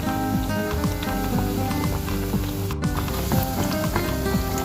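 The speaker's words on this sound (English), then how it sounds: "let's recook our banana cue with sugars" Lady finger bananas fry with sugar into banana cue, giving a dense, continuous close-up sizzle with small crackles and pops throughout.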